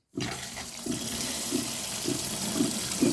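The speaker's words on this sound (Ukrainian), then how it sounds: "Наливаю чисту воду." Clean water runs steadily from a tap into a pot for boiling liver sausage, a continuous close splashing stream that starts abruptly.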